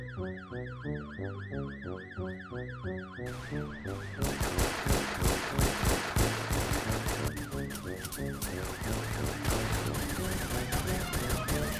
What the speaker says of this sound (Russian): Давай достаем стволы и испугаем всех полицейских выстрелами.